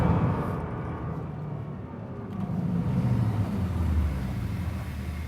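A Porsche 911 Turbo S sports car driven hard on a track, its engine a loud, steady low roar with shifting pitch, close and continuous with no pauses.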